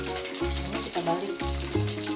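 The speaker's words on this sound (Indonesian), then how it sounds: "Goreng juga sampai matang, sampai kuning kemasan ya." Chicken pieces fry in hot oil, a dense continuous sizzle close up with low thumping clunks from stirring or turning in the pan, steady and loud with no voices.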